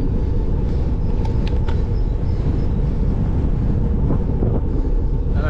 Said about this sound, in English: that wind's pretty biting